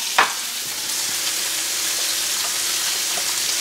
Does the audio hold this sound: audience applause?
no